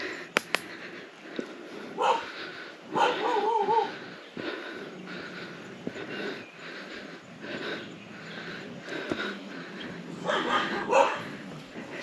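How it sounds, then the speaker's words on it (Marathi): Dogs bark a few times at a distance, in short bursts amid outdoor ambience, with some quiet talk and footsteps around them. "आल्याबरोबरच कुत्र्यांनी स्वागत"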